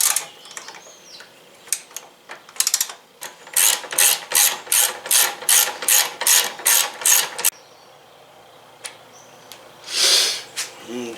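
A replacement hood latch on a Volkswagen Golf MK4 is tightened down with a ratchet, giving a close run of about a dozen rhythmic ratcheting clicks, with a few scattered mechanical knocks before and after.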